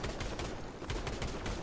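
An AK rifle fires in Fortnite, rapid bursts of loud, dense shots crowding one another in quick succession with no talking.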